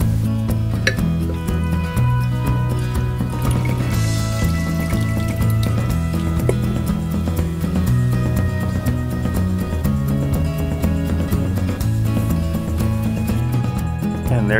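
Water pours and trickles into a glass jar for a semi-water culture orchid, with light clinks and drips over a steady liquid splash.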